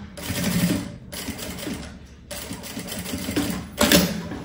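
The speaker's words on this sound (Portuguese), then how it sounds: "Eu já vou passar a costura bem na beiradinha aqui, só pra segurar" A sewing machine stitches along the edge of a fabric backpack in steady whirring bursts with brief pauses between runs; close and loud, with no talking.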